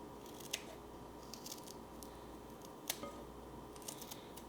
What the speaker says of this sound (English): Just gonna use the kitchen shears again.